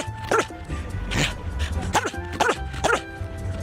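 Several short dog barks and yips from a played clip about dogs interviewed on the World Cup, coming in quick bursts with voices and background sound around them.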